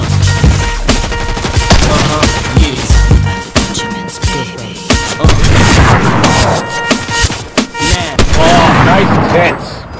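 Gunfire in the video game Fortnite: loud, repeated sharp shots and bursts in quick succession, mixed with dense game sound and booms throughout.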